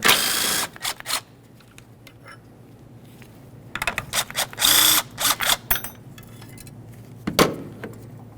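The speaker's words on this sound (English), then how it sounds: "This hold down is held in place with a 10mm headed bolt and a 10mm headed nut. Remove the pair and the hold down." On a 2006-2012 Ford Fusion, a ratchet works the 10mm bolt and nut off the battery hold-down, giving bursts of quick metallic clicking with short pauses between them.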